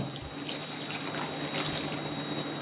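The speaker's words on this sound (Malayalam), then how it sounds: "ഏകദേശം കപ്പ മൂടുന്നത് വരയ്ക്കുള്ള വെള്ളം ഒഴിച്ചു കൊടുക്കാം" Water being poured over chunks of tapioca in a cooking pot, a steady low splashing wash that runs continuously and fairly faint, with no voices.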